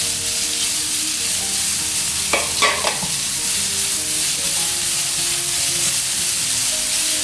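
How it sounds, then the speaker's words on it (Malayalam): Beetroot and onions sauté in hot oil in a pan, a loud close steady sizzle broken by a brief burst of spatula scraping as they are stirred; no one speaks. "നമുക്കിതിലേക്ക് ബീറ്റ്റൂട്ടും കൂടി ഇട്ടിട്ട് നന്നായി വഴറ്റിയെടുക്കാം."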